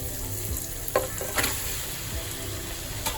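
Marinated chicken dropped into a pan with onion, green chilli and tomato, frying with a steady broad sizzle and a few louder clatters and stirring scrapes near the one-second mark and again around one and a half seconds.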